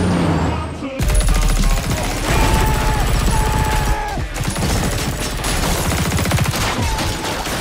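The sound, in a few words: gunfire in a shootout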